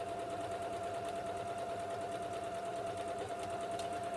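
Steady, close whir of a sewing machine running continuously as it stitches along the turned-out seam of a fabric project envelope, with no voices.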